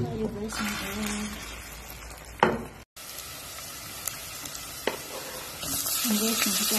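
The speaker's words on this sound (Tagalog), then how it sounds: "Ayan, mag-prito tayo ng egg." An egg fries in a hot pan at home, with a steady soft sizzle and crackle and a few scraping stirs, fairly quiet, with a brief pause partway through.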